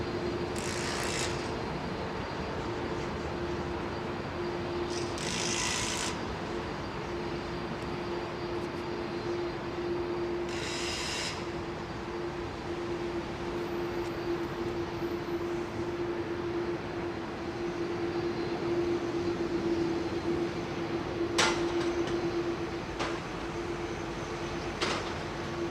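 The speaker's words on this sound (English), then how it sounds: "Lovely old CF6 engines, listen to this." An old airliner with CF6 jet engines at London Heathrow, runway 27R, gives a steady, continuous roar with a sustained engine whine, fairly loud and unbroken, with a few brief sharper noises over it.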